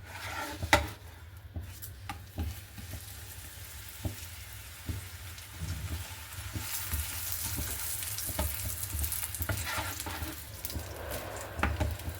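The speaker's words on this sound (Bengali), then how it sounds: "পরোটাটা আমি ফার্স্টে দু পিঠ খুব ভালো করে সেঁকে নেব।" A paratha toasts dry in a hot pan with a low, steady sizzle and crackle, punctuated by occasional sharp clicks and taps from handling, with the frying hiss building louder in the second half.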